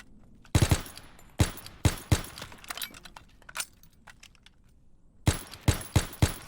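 A German submachine gun fires in Call of Duty, several short sharp bursts of rapid shots with brief pauses between them, loud and close against a quiet background.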